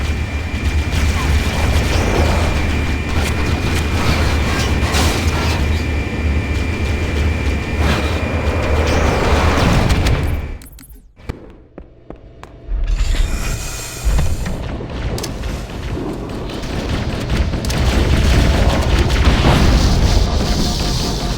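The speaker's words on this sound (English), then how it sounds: "The pulse generator overloaded." A pulse generator in Halo CE overloading and exploding, a sustained loud roaring hum that suddenly cuts out into a brief near-silence before turbulent rumbling swells back up.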